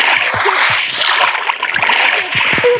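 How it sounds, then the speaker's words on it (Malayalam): A character splashes into water in the video game Minecraft, with continuous loud splashing and churning water plus short low thumps, heard alone without talk. "ഈ വെള്ളത്തിൽ ചാടുക"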